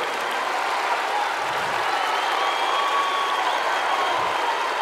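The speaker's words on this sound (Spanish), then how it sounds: "¡Fuerte el aplauso!" Broad, continuous applause from a big festival crowd at Viña del Mar, dense even clapping filling the space with faint cheering mixed in and no voices on top.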